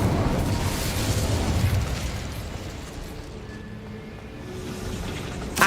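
In Hogwarts Legacy, the Incendio fire spell goes off in a low, rumbling whoosh that is loudest at the start and then fades into a softer roar.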